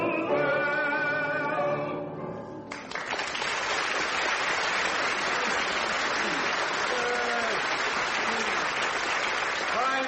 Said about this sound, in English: audiences do love applauding their own singing